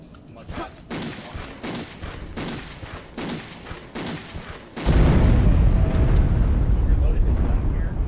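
Rapid gunfire from Henry's gun in Castlevania: Legacy of Darkness, a series of evenly spaced bursts followed by a loud, dense roar of sustained shooting, heard with talk over it.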